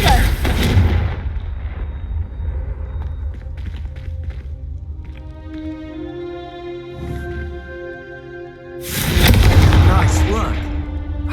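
A fire spell explodes in Hogwarts Legacy, a loud booming blast with a crackling burst, followed by fading rumble and tonal magical effects, then a second heavy roaring burst.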